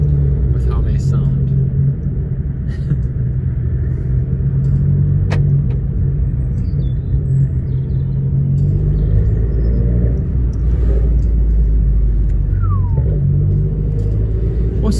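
An Abarth 595 engine drones low and steady while driving, with a constant road rumble and deep exhaust tone throughout and people talking over it.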